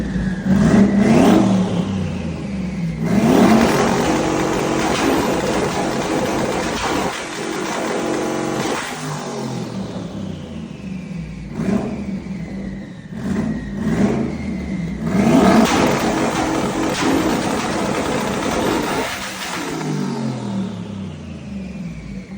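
A twin-turbo Ford Mustang engine revs hard and loud on a two-step launch limiter outdoors behind a shop, rising in repeated surging bursts that fall back between pulls over about twenty seconds.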